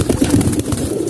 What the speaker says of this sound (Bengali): এমন কিছু বাচ্চা কবুতর আছে